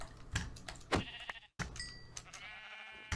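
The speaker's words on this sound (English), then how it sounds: "oh, sheep! Sheep! Sweet sheep!" A couple of Minecraft sheep bleat in short, nasal calls amid quick clicking and tapping noises, with no voices present.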